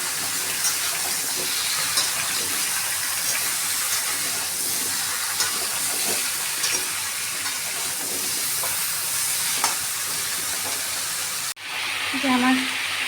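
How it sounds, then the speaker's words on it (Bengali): Pumpkin pieces frying in a pan with turmeric give a steady, broad sizzling hiss throughout, with faint scraping of stirring and a brief clatter near the end. "যে আমার কুমড়োগুলো ভাজা হচ্ছে"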